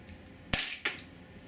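Two sharp shots from a Walther PPS 4.5mm CO2 blowback BB pistol, each a crisp close pop with a brief slide clack, the second following about a third of a second after the first.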